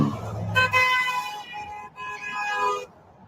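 Truck horn honking at a passing convoy, a couple of loud sustained blasts with a short break between them, close and over rumbling traffic.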